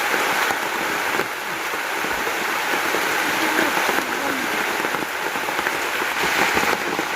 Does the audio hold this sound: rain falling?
yes